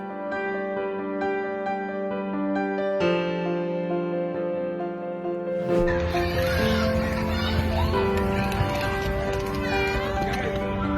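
A cat meows repeatedly over steady background music, with a voice speaking partway through.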